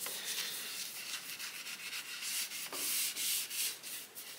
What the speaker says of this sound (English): And then just rub this into the grain.